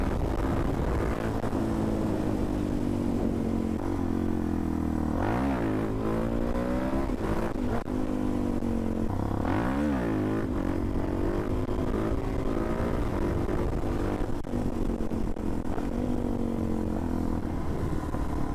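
Suzuki DR-Z400SM motorcycle engine droning steadily while riding, with two sharp revving surges rising and falling in pitch, wind noise throughout.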